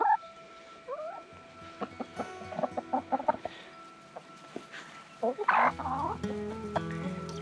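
Chickens cluck and call close by at a quiet caravan campsite near Townsville, Queensland, in irregular bursts, with a person speaking to them over the clucking.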